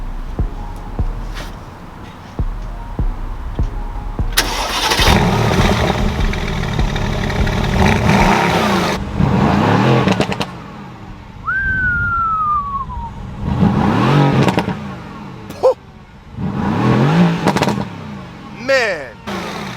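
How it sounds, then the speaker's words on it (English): Mercedes-Benz AMG GT starting up and revving loudly, with bursts of engine roar and exhaust noise rising and falling over about twenty seconds, a passing siren-like whine partway through, and someone talking in the background. "I'll start the car for you so that we can hear exactly how this engine sounds."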